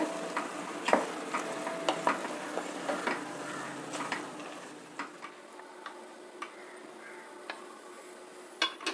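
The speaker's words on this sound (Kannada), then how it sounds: "ಮಸಾಲೆ ಮತ್ತು ತರಕಾರಿ ಸೇರಿಸಿ ಸ್ವಲ್ಪ ಹುರಿಬೇಕಾಗುತ್ತೆ" Soft sizzling as spices and vegetables fry in a pan, with scattered light clicks and scrapes of stirring, steady and close, no talking.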